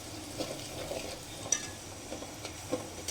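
Garlic and chilies fry gently in a pan over low heat, giving a soft, steady sizzle with occasional light clicks and scrapes of stirring, fairly quiet throughout.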